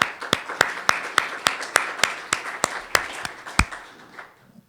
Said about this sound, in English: Please join me in a round of applause to welcome Professor Currie as a new member.